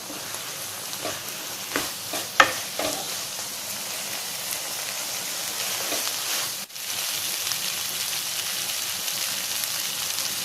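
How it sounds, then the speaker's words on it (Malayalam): Soya chunks dry roasting over a high flame in a pan, a continuous hissing crackle with a few louder scraping knocks from stirring early on, close and steady with no talking. "ഇനി നമുക്ക് ഫ്ലെയിം കൂട്ടിയിട്ടിട്ട് ഒന്ന് നന്നായിട്ട് റോസ്റ്റ് ചെയ്തെടുക്കാം."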